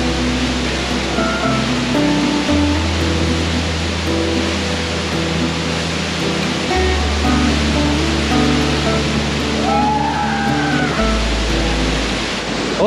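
Roaring waterfall in Kyrgyzstan with flying spray, a steady dense broadband rush filling the whole clip, loud and close with no talk.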